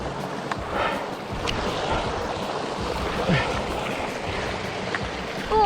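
Water flowing in Bon Echo Creek at Bon Echo Provincial Park, a steady broadband rush with wind noise and some faint clattering, heard up close.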